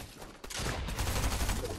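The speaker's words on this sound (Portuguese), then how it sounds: "Essa aqui, a espingarda automática, concordo plenamente que é uma arma horrível" Rapid bursts of automatic shotgun fire in the Fortnite video game, loud and dense, forming a near-continuous fusillade after a brief opening shot.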